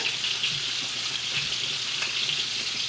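Soft, even bubbling sizzle of a creamy white wine sauce in a pan as cream is stirred in, with a faint scrape or two and no voices.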